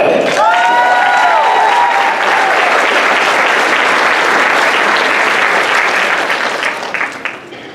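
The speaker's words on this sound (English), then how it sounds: "give yourself a hand clap" A conference audience at the National Lived Experience Leadership Conference keynote claps for itself, loud, sustained applause with a few whoops at the start, tapering off in the final seconds.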